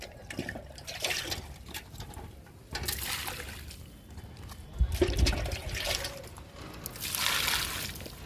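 Tomato and other garden plants are watered under summer heat, with close splashing and trickling water in several surges and pauses, and a faint voice now and then.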